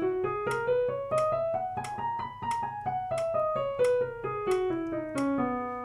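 Triplet notes, three to each metronome click, running up and back down a scale in an even, lilting stream of short pitched tones with regular clicks underneath, no talking.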